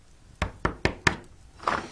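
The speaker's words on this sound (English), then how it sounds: "He hears a knock on the door." Four sharp knocks on a door in quick succession, then a softer, muffled thump, heard alone and fairly close with no voices.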